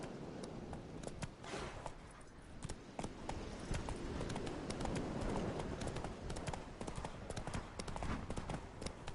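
Hooves pound in a fast, continuous gallop as a horse runs in The Witcher 3, a dense, loud clip-clop rhythm carrying through with no talking.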